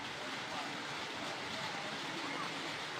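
Floodwater rushes through Sungai Buloh in a broad, steady roar that continues without a break, mixed with wind-like noise.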